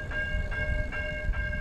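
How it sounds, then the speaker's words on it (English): A Link Light Rail train passes nearby, a steady low rumble topped by sustained tonal whines and faint periodic squeals, with no talking. "That's the Link Light Rail train."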